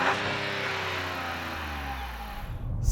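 A 2024 Chevy Trax 1.2-liter three-cylinder engine heard from outside hums and rises in pitch as it revs, steady and moderately loud, with no talk over it.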